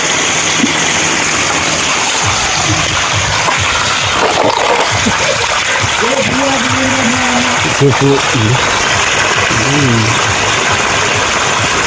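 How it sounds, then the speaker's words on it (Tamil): Boiled eggs are washed under running pipe water, a steady loud rushing stream throughout, with a voice talking over it. "பைப் தண்ணியில் கழுவிடலாம்"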